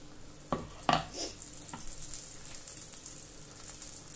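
Aloo paratha laid onto a hot, oiled tawa gives a few soft clattering contacts, then a steady low sizzle continues underneath, close and fairly quiet.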